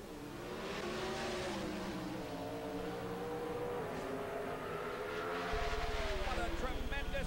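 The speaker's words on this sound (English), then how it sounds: "Charge by the Oldsmobile of Morgan." An Oldsmobile drag race car at the 1991 NHRA Quaker State North Star Nationals roars off the line with a loud, rising engine howl that swells as it pulls away. An announcer talks over it.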